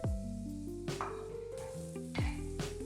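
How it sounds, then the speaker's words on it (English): Banana chunks fry in vegan butter in a non-stick skillet with a steady low sizzle, broken by several clattering stirs of the pieces around the pan, close and alone with no talking. "I'm letting the banana chunks cook in there for about 6 to 8 minutes"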